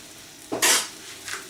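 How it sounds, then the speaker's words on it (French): Garlic sautéing in a pan, with a brief burst of sizzling and a utensil scraping as it is stirred, followed by a fainter second sizzle, loud and close. "Je fais revenir l'ail un petit peu"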